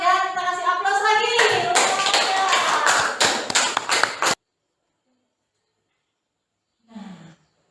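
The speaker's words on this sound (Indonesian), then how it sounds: "Kita kasih aplaus lagi" A classroom bursts into a loud round of applause, many hands clapping close by for several seconds after a shouted group cheer, then silence, then a brief voice.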